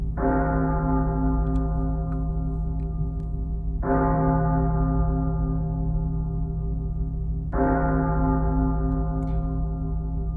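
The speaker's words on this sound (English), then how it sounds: "It seems the bells toll for me." Three deep, resonant bell strikes toll at slow, even intervals during a cutscene in the game Retribution, each ringing out and decaying over a low continuous hum, with no voices.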